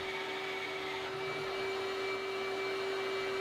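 Workshop vacuum running in a guitar-building shop, a steady close whine and whoosh with a constant tone, held throughout at moderate loudness with no talking.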